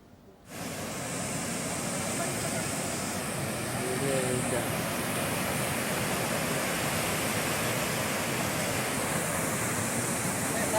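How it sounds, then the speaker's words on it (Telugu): Swollen hill stream in flood after torrential rain near Kataram and Medaram in Jayashankar Bhupalpally district, a steady loud roar of rushing water that holds constant for about ten seconds with no talk over it. "పెద్దవాగు ఉప్పొంగి ప్రవహిస్తుండటంతో కాటారం, మేడారం మధ్య రాకపోకలకు అంతరాయం ఏర్పడింది."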